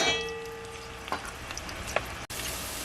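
Mashed garlic cooks in a pot of rice with coconut milk, giving a steady, soft sizzle close by, with a few light taps and a brief break near the end.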